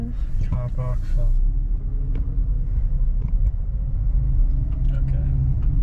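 A car drives through Dubai, its engine and road rumble steady and continuous from inside the cabin while people talk over the low drone.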